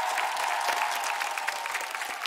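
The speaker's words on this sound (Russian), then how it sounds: "Ребят, вам аплодисменты." A studio audience on a televised impersonation contest applauds loudly, a thick, continuous wash of clapping sustained throughout, with a faint steady tone beneath.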